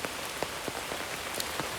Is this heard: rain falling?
yes